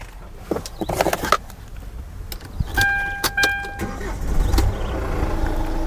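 A 2019 Hyundai H1 Elite van engine starts up, with a short burst of cranking and turnover followed by a settling run. A brief electronic chime sounds alongside, close by and indoors-sounding, with no talk.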